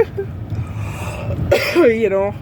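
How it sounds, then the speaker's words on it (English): A short burst of coughing from a person with the flu rises over steady background rumble, followed by a voice. "I'm still coughing."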